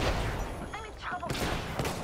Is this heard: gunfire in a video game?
yes